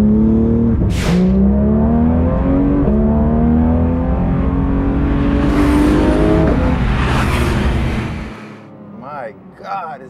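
A Porsche GT3 RS with a naturally aspirated engine revs hard through rising gear pulls, the pitch climbing in steps with shift breaks, loud and close from inside the cabin, before tapering off at the end.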